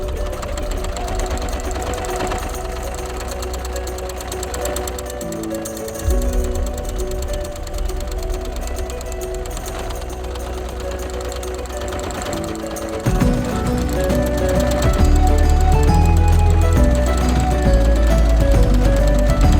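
A sewing machine stitches buttonholes in steady, loud mechanical bursts, its rhythmic running changing pace and growing heavier toward the end, with no talk.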